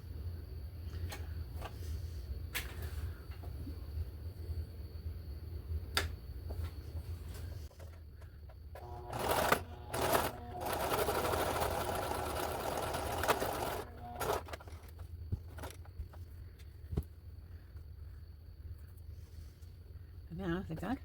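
A sewing machine stitches fabric in a steady low hum that lasts throughout, with a denser whirring stretch in the middle and scattered clicks and handling noises on top.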